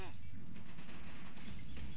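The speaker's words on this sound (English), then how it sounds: "This dude really like artillery." Artillery fire in a Men of War Assault Squad 2 match on the Docks map, a dense rumbling barrage of booms and crashes that fills the whole two seconds without a break.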